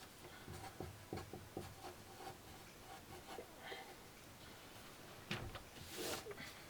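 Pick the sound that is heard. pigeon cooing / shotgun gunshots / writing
writing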